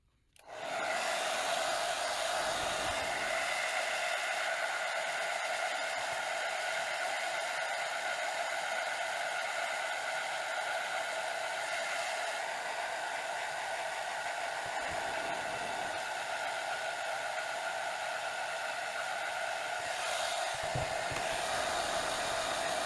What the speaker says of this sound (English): that was on hot and a low setting on the blow dryer